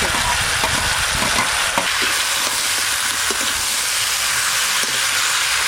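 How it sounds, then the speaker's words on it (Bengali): Steady, loud sizzling of mixed winter vegetables, including Malabar spinach and flat beans, frying in a hot pan, with occasional scraping stirs and no talking. "সবজিগুলো একটু ভালো করে ভাজা ভাজা করে নিয়েছি"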